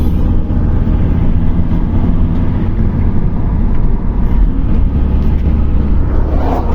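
Volkswagen T4 van with a turbocharged 2.5 engine driving, a steady loud low drone of engine and road noise from inside the cabin, unchanging throughout.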